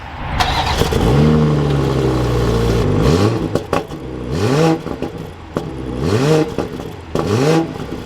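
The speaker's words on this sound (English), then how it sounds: "And then down below, we have the dual exhaust." A 2021 BMW 540i sedan with dual exhaust idles with a deep, steady rumble, then is revved several times in quick bursts, each rising and falling sharply; the car is loud and close, with no talk.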